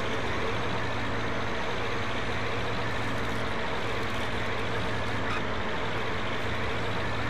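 A tank driven in the video game Dead Island, its heavy engine rumbling loud and continuous throughout, with a steady low drone and no pauses.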